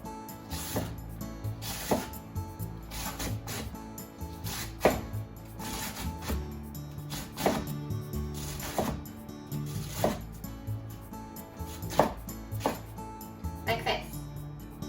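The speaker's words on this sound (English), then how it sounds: "Let's cut it into thin diagonal strips." A knife slices the base of a napa cabbage into thin diagonal strips for sukiyaki, giving steady, crisp chops roughly once a second over a low tonal background.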